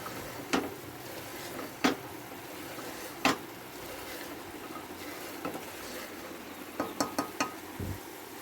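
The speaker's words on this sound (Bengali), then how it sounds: "ডালটা দিয়েও আমি ভালো করে কষিয়ে নিচ্ছি।" Goat meat and chana dal being stirred in a pan, with a faint background sizzle and several sharp clinks of a utensil against the pot at irregular intervals, no talk.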